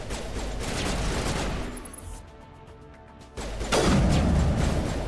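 Sniper rifle fire in Mass Effect Legendary Edition: loud, booming blasts with heavy reverberant tails, a sustained burst early on, a brief near-quiet gap, then another powerful shot that rings on.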